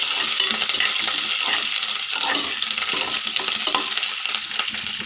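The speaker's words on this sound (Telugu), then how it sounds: "ఎండుమిర్చి, పచ్చి కరివేపాకు, ఫ్రై అవ్వనివ్వాలి" Dried red chillies, thinly sliced green chillies and curry leaves frying in hot oil, a dense continuous hiss and crackle with occasional stirring scrapes, steady and close throughout without any voices.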